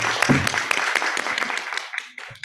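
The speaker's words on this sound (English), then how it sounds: "Please give a big round of applause for all of us." Audience applause fills a conference room at a regional forum on care work in ASEAN countries, a dense burst of clapping that carries throughout and thins slightly near the end, with a voice briefly audible beneath it.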